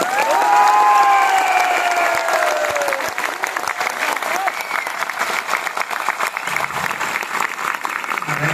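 An audience at a Teachers' Day event in Gwalior claps and cheers loudly, with whoops and shouts rising over the start before the applause continues steadily and fades slightly.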